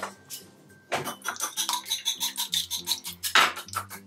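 Eggs beaten with a pinch of salt and a little pepper in a bowl, for pork schnitzel: a fast, steady run of scraping, clinking whisk or fork strokes against the bowl, close and fairly loud, with no talking.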